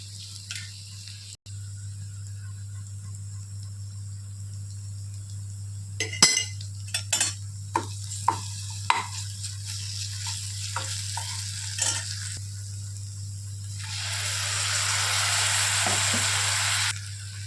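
Ginger garlic paste frying in a pan for tomato rice, a soft sizzle over a low steady hum, broken by repeated spatula scrapes and clinks, then a rising hiss near the end.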